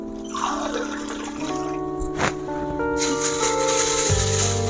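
Water splashes and pours into a metal pot, with a rising rush and rattling clatter, close by and fairly loud.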